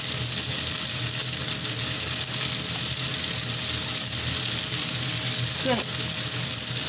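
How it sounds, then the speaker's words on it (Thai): Tomatoes stir-fry in a hot pan with paprika, a steady bright sizzle running throughout with faint scraping of the utensil now and then. "แล้วก็มะเขือเทศด้วยผัดให้อ่อนๆนะคะ"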